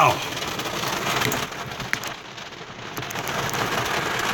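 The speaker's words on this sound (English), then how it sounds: "It's pouring rain." Heavy pouring rain hammering down on surfaces nearby, a loud continuous hiss with a brief knock partway through, heard outdoors by a car.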